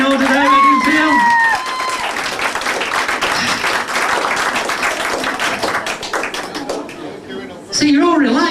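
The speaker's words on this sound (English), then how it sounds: "Round of applause in order there" An audience at a hypnosis stage show gives a round of applause, a dense steady wash of clapping that follows a man's speech and is heard with voices over it.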